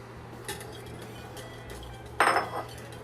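Utensil clinking and scraping against a pan while cornstarch slurry is stirred into a low-carb Chinese noodle dish, with a soft clink early and a louder burst of scraping near the end over steady kitchen hum.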